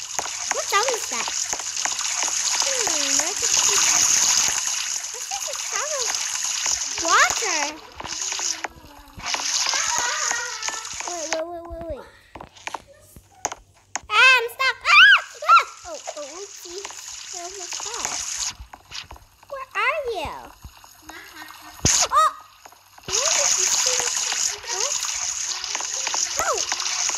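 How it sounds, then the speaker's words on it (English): Loud, steady shower water from the Roblox Brookhaven game hisses in long stretches that stop and start, while children talk over it and in the gaps. "The shower."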